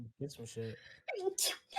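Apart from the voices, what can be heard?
sneeze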